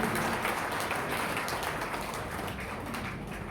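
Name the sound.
audience applause at a Hindi poetry recital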